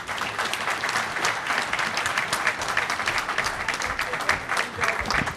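Sustained applause from an audience at an innovation event right after a presentation ends, dense and steady clapping filling the room from start to finish with no voices on top.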